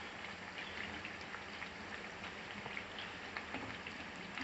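Bread fries in hot oil for a sweet bread halwa, giving a dense, continuous crackling sizzle that stays even and close throughout, with no voices.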